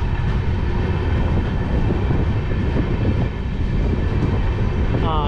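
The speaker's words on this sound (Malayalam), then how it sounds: "ഇവിടുന്ന് വണ്ടി ഡിപ്പാർട്ട് ചെയ്തു കേട്ടോ" Somnath Express in motion, heard from inside a sleeper class coach: a steady, loud rumble of the running train with constant low-end roar and rattle throughout, and no clear voices.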